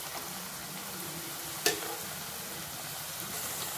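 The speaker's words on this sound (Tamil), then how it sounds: "இப்போ பார்த்தீங்கன்னா வாழைக்காய் நல்லா ஒட்டாமல் அழகாக இந்த மாதிரி மொறுமொறுன்னு வேக" Raw banana slices frying crisp in hot oil for a Chettinad-style fry, producing a continuous close sizzle with a sharp clink of a utensil partway through and faint stirring scrapes.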